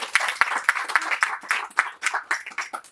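Wedding reception guests break into a round of applause after a speech, dense irregular clapping close by, lively and continuous throughout.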